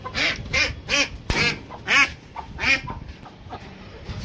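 Ducks quack loudly nearby in a run of repeated calls, about one every half second, trailing off into softer quacks.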